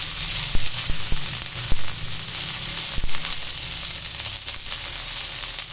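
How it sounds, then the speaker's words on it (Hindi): Chopped onion sizzles steadily in a hot pan while upma is being cooked, a continuous close frying hiss with a few soft clicks and stirring knocks, no voices. "इसके साथ ही हमने जो बारीक बारीक प्याज काटा हुआ था ना, वो भी डाल देंगे इसमें"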